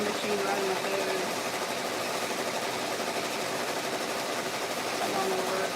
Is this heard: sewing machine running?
yes